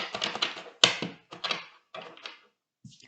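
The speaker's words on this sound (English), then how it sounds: "I'm just going to give it one more shuffle." Tarot cards are shuffled by hand in a run of quick, crisp riffling bursts with short pauses between them, close and fairly loud, with no talking.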